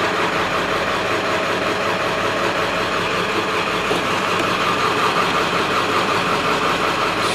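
A 1995 Ford F-250 with a 7.3L diesel idles roughly, giving a steady, dense clatter and rumble that continues unchanged throughout at close range.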